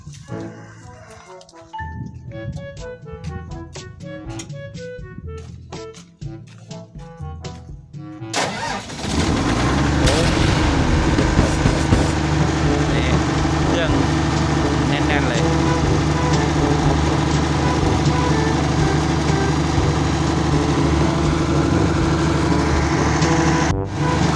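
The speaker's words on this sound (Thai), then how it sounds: "มาลองสตาร์ทดูนะจอดไว้นานแล้ว จะติดหรือเปล่า" A car engine that has sat parked for a long time cranks briefly, then catches and settles into a steady, loud, close idle that runs on alone, with faint talk earlier.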